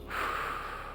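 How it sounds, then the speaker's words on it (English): A single short, soft inhale through the nose during a stretching routine, close and breathy. "Remember to keep the breathing going in through the nose,"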